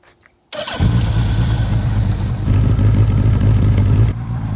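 A Suzuki Katana motorcycle fires up after a brief click, then settles into a loud, steady, throbbing idle close by, with no voices over it.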